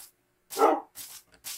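A dog in the Minecraft video game gives a few short, close barks in quick succession, one stronger yap followed by two or three lighter ones, each separated by brief silence.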